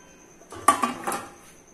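Melted jaggery being strained through a strainer into a pot, with a few clear metallic clinks and scrapes of utensil against cookware, close and brief over a quiet kitchen background.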